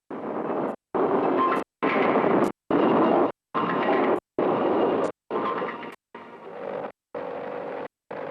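Explosives blasting pathways through mountain cliffs during construction of the Karakoram Highway in Pakistan: a series of about nine loud, rumbling bursts, each lasting under a second, separated by brief silences.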